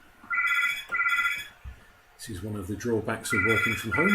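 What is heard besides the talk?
telephone ringing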